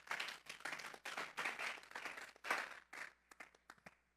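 A church congregation clapping in rhythmic bursts, fairly close and moderately loud, breaking into a few scattered claps before fading out.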